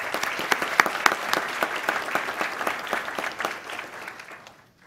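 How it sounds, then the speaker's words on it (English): Applause from the audience at a school district board meeting, steady dense clapping for nearly five seconds before tapering off into quiet at the end. "Let's give them a round of applause."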